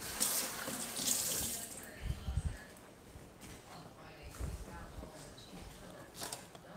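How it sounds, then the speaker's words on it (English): Kitchen tap running as hands are rinsed under it during meal prep, a steady close splash of water in a sink with a few louder sloshes and soft background sounds. "I rinse my hands off."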